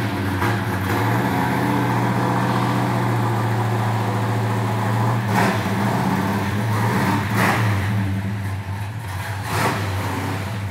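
A 1968 Pontiac GTO V8 runs loud and close just after its first start, a deep rumbling idle with a few sharp revs blipping up over it, no talk.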